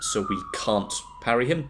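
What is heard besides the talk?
sirens in the background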